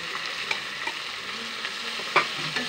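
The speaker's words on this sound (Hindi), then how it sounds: "अब जाएगा ये सूरन। साथ ही में ये हरी मिर्च भी" Pieces of suran (elephant yam) and green chillies sizzle in a pan at a soft, steady level, broken by a few light clicks of stirring and one sharper clack, with no one talking.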